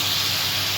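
Spice-rinse water poured into a hot pan of fried masala, bursting into a loud, dense, steady hiss and sizzle that fills the short moment, close up with no talking.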